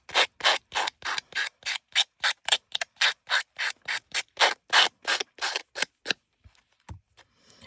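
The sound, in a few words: sanding with a sanding block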